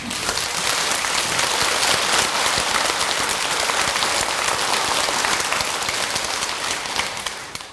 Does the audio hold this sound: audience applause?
yes